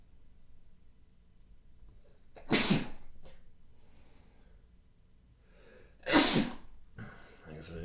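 Two loud, close sneezes a few seconds apart over a quiet room background, each with a short sharp inhale and burst during a board game session.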